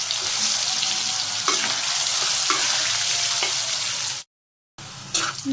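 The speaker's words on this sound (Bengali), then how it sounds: "তেল গরম হয়ে গেছে, আলুগুলো দিয়ে দিই।" Potato pieces frying in hot oil in a wok, a loud, steady sizzle with occasional stirring scrapes, a brief silent break, then the hiss resuming.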